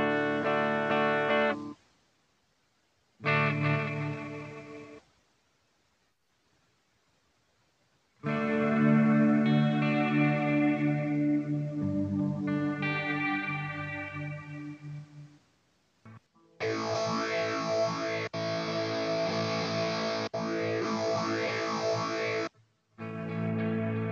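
Electric guitar played through an M-Vave Tank-G amp with reverb and delay: bursts of distorted chords and melodic lines separated by silences, with notes cutting off abruptly. The final passage is brighter and denser, without trailing echoes.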